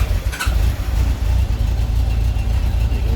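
A 1997 Kawasaki ZZR1100 motorcycle engine running on choke, a loud, close, steady low rumble with a brief rise near the start.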